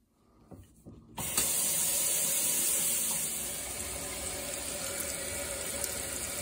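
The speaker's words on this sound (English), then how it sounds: "We're gonna run some water through it and look for leaks." Water from a tap pours into a kitchen sink and through its newly reassembled drain, starting abruptly after a few faint clunks and then running as a steady, close hissing stream.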